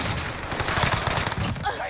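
Dense rapid gunfire from a Warzone firefight on Rebirth Island, shots overlapping in a steady loud clatter across the whole stretch, with faint voice underneath.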